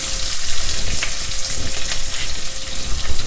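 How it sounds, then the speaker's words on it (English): Sliced onions hitting hot oil with browned dal and a pinch of hing, giving a loud, continuous close-up sizzle with crackling spikes throughout. "when the dal is browned, add in the sliced onions to it"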